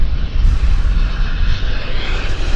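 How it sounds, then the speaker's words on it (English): A CRJ regional jet lands at Vancouver airport, a loud, close, rumbling engine roar that fills the whole moment without pause. "we just had a CRJ land right before our very eyes"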